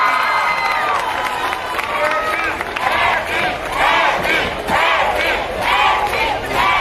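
Crowd at a regional dance intercollegiate awards event in Tlapacoyan cheering, shouting and clapping in sustained waves, loud and continuous throughout with voices mixed in.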